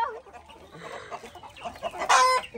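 Chickens cluck and squawk at a grandmother's house, with soft scattered clucks building to a louder burst of squawking near the end, close by, with no speech.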